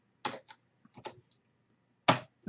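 Typing on a computer keyboard: a few separate close clicks and short bursts of keystrokes with quiet gaps between them, recorded alone.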